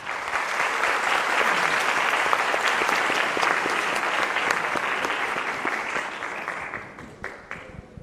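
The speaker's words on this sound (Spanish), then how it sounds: "Acaba de llegar Valerio, recibámoslo con un aplauso." An audience at a book fair in Bogotá applauds to welcome an arriving guest author, with dense, sustained clapping throughout that thins out toward the end.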